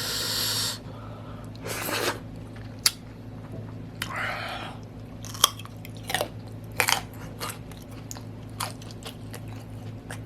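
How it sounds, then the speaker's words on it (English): Crunchy bites and wet chewing while eating octopus for the first time, loud close-up bursts at irregular intervals with quieter mouth sounds between. "I'm too busy eating, y'all."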